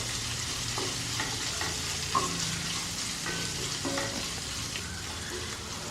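Sliced onion frying in hot oil with urad dal, dried chili and curry leaves for papaya thoran, a steady close sizzle with soft scraping stirs running throughout, no voices.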